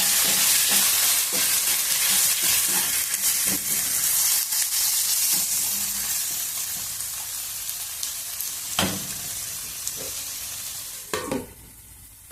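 Chicken pieces frying with ginger garlic paste for a gongura chicken curry, a loud close sizzle with scraping stirs that gradually settles and quiets over about twelve seconds, a few sharp clinks of a spoon on the pan.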